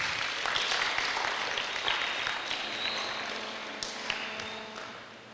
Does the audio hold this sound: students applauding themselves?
yes